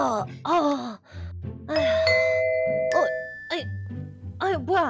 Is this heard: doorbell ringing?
yes